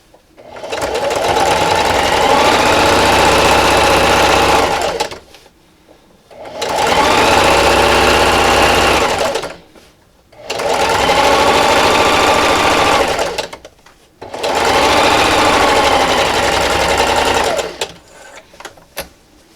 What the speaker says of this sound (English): this time I'm going to sew 1/8 of an inch away from our seam line right here